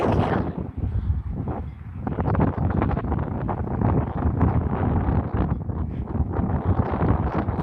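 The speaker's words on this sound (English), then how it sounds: "I know it's very windy." Heavy wind buffeting a microphone on a pier at Shelter Island, San Diego Bay, a loud continuous rumbling roar with gusty swells throughout.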